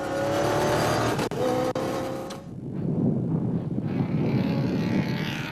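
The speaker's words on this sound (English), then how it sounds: "The BMW was sounding healthy," Loud engine roar from a BMW X3 rally car fitted with a V8 petrol engine, racing on the Magalies 400, dropping away after a couple of seconds into rushing wind noise as it passes.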